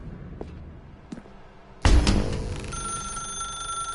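A telephone in The Stanley Parable starts ringing abruptly after a quiet stretch, a loud bright electronic bell tone that keeps sounding steadily over a low rumble.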